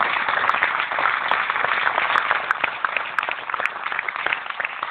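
Sustained applause from an audience at a recognition ceremony, dense and steady at fairly close range for the full stretch, easing only slightly toward the end.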